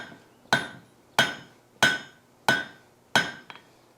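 A hammer strikes hot steel over the corner of an anvil while a hog catcher is forged: five sharp, ringing blows at an even pace, followed by a lighter tap. The blows are close and there is no talk.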